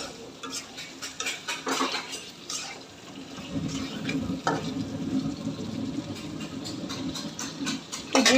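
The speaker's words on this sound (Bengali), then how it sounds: "মশলাতে তেল উঠে আসছে, এখন আলুটা দিয়ে ভালো করে কষাই নেব।" Potatoes stirred and fried in oil with spices for a pangas fish curry, a metal spoon scraping and clinking against the pan in irregular strokes over a low sizzle.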